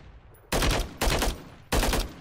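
Three loud, close bursts of video game gunfire, each lasting about a quarter second, spaced roughly half a second apart against a quiet background.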